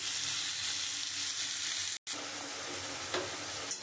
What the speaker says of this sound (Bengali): আমি এবার সব মশলাটা দিয়ে আমি এবার খুব সুন্দর করে আমি কষিয়ে নেবো।